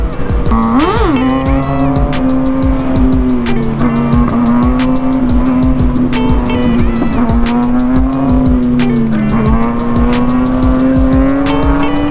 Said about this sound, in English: Spinning my tire on that paint.